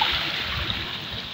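Sea water surging at high tide around a person wading near the shore: a steady, close rush of churning water that holds throughout, with no clear talk.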